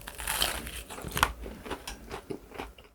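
Crisp, crackly crunching from close-up chewing of crunchy fried chicken, several bites in an uneven rhythm with no talking.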